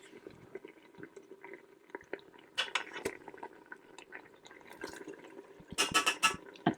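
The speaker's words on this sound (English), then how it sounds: "any juices from your meat, they're going back in" Meat juices poured back into a pot of stewing steak in red wine, with faint liquid trickling and splashing along with a few close clinks of utensils against the pot.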